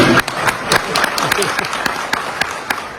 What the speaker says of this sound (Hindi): भाई अगर सही है तो जोरदार ताली चाहिए कि नहीं?